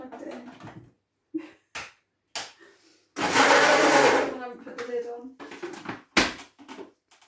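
A kitchen blender whirs loudly for about a second and a half as it mixes a smoothie with milk, then stops. A person talks in short bursts before and after it runs.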